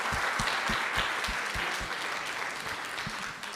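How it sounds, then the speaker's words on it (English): An audience at a youth festival opening applauds a musician, a steady, dense wash of clapping from many hands that carries on for several seconds, fading slightly toward the end. "Can I please have a big round of applause for our musician"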